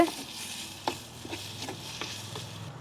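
A spoon scrapes through chopped tomatoes and onions frying in a pan. Several distinct stirring clatters sit over a soft, continuous sizzle, fairly close and with no talk.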